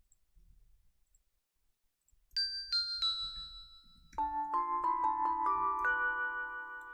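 A chime sample played in music production, bright bell-like tones entering after a quiet start, first a few high struck notes, then a denser run of lower ringing chimes sustaining to the end.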